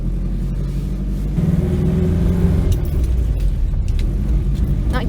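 A Mk1 Mini's engine is started while left in gear, giving a low rumbling crank that catches into a louder, rougher idle, with a few sharp knocks and rattles inside the small car.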